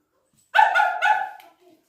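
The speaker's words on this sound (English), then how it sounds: "and that's Penny barking." A dog barks at the entrance of a woodland cave, two loud close barks run together into a short whining tail, standing out against a quiet background.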